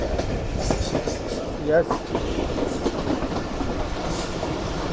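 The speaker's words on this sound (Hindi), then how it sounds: "जो मेन लाइन पर प्लेटफॉर्म है उसी पर लग रही है ट्रेन" The Jaffer Express, hauled by a Chinese locomotive, rolls into a main-line station platform with a steady rumble of wheels and carriages, faint rail clatter and a brief squeal, under a few spoken words.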